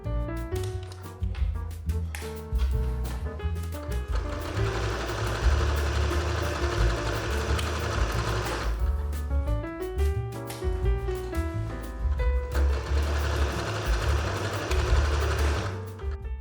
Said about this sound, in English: I started by sewing the back and front crotch seams together.